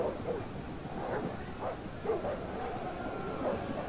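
War dogs barking in an Ancient Empires mod battle: a pack gives repeated yelping barks and whines at a medium distance over a steady battlefield rumble.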